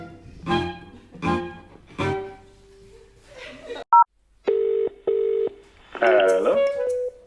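Touch-tone telephone dialing for an outgoing call: a few separate beeps and broad clicks, then a sustained tone, two steady ringback pulses and a warbling tone burst, clear and close with no talking.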